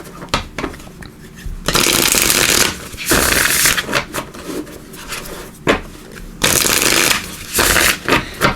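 Light Seers Tarot cards shuffled by hand in several loud bursts of riffling and rubbing, with brief quieter pauses between the rounds.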